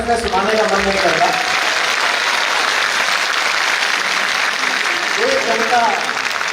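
Audience applause fills a hall at a Hindi poetry recital honoring Atal Bihari Vajpayee, steady dense clapping throughout, with a voice speaking over it at the start and end.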